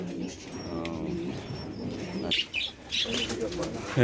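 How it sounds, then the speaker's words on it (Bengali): Pigeons kept on top of a basket at a farm in Taherpur, Bagmara, Rajshahi coo softly up close, broken by a quick burst of flapping wings and a few other bird calls. "আপনারা দেখছেন এই ঝুড়ির উপরে কবুতর না?"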